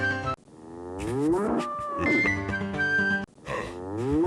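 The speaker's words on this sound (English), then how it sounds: "make this cow moo over and over again" A cow moos repeatedly in the video game Oregon Trail II, three loud, drawn-out, close moos with short silent gaps between them.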